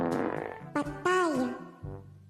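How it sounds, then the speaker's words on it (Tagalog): A fart in a classroom comes as a quiet, buzzy, drawn-out blast, followed by a short rising squeak and a couple of brief rumbles. "Mabaho? May umutot."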